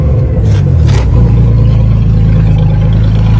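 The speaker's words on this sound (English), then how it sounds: "Aww, it's got a rev limiter!" A 1994 Ford Taurus wagon engine held against its rev limiter gives a loud, steady, close droning roar with a rough low rumble, briefly stuttering near the start before settling into a constant high-rpm hum.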